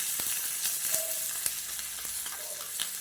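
Asafoetida powder sizzles in a hot pan while rasam is being prepared, giving a steady, dense hiss with a few light clicks from stirring, close and fairly loud, with no voices.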